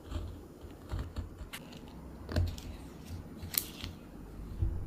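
Close, crisp snipping of scissors cutting the outer outline of a cowhide leather piece for a leathercraft keychain, with irregular clipped cuts and soft handling rustles in a quiet room.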